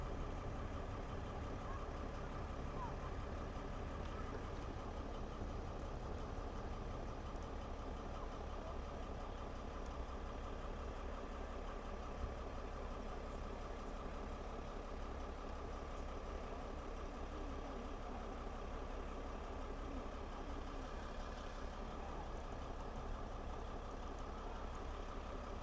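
A vehicle engine idles steadily in the background throughout, a constant low rumble with no talk, heard during the April 2024 total solar eclipse.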